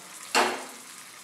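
Mustard seeds, urad dal and curry leaves hit a little hot oil for tempering hotel-style white chutney, giving one sudden close sizzle that quickly fades to a soft hiss.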